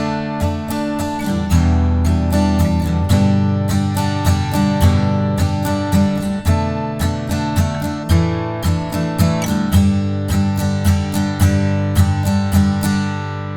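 An acoustic guitar strums a song's verse in a down-down-up pattern, bright and close, with steady rhythmic strokes moving through the chord changes.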